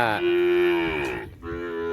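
A cow in a large cattle herd out on open pasture gives one long, loud, close moo, and a second low call begins just after it.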